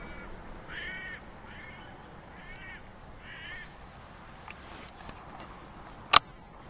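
A hooded crow calling in sheep country, a few hoarse caws at moderate distance, followed by a single sharp loud rifle shot from a Hornet rifle.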